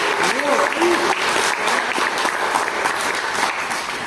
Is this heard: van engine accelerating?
no